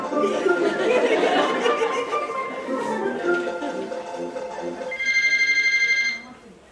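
A phone rings with a call from a Swiggy food delivery driver, its bright repeating ringtone cutting in near the end after a stretch of lively background sound and chatter.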